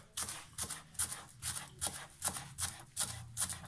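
Knife chopping fresh coriander into small pieces on a board, about a dozen steady rhythmic cuts with crisp close taps, no talking.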